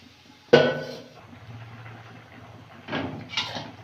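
Water is added to a cooking pot of fried potatoes and a lid goes on in a village kitchen: a sharp metallic clank, a soft pour, then two lighter knocks of the lid.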